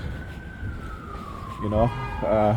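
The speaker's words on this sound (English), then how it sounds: "They'll start using their sirens and so forth. Yeah, the sirens." A police siren wails from a distance in New York, its tone gliding downward, then rapid yelping siren bursts rise louder over background noise.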